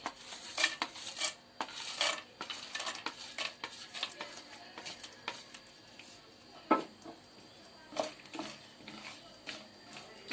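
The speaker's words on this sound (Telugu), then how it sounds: "ఇప్పుడు పోపు దినుసులు వేస్తున్నాను." Tempering spices hit hot oil in a kadai, with a light sizzle underneath and frequent sharp clinks and scrapes of a spoon against the pan, in irregular bursts close up.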